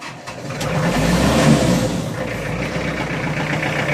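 Diesel engine cranking and catching after glow-plug preheating in a cold shop, a loud rough rumble that swells over the first second and a half, then settles into a steady low idle.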